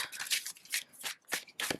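A Llewellyn tarot deck is shuffled by hand, giving close, crisp riffling bursts in quick succession, four or five short rasping sweeps of the cards with brief gaps between them.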